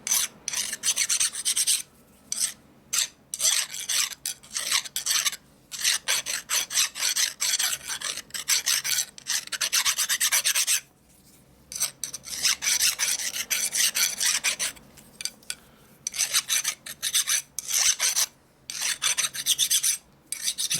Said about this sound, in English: You hear how file digs in there?